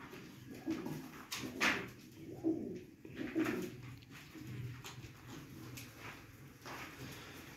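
A rare breeding pair of pigeons coos softly nearby in a few low, rolling calls spaced through a quiet background.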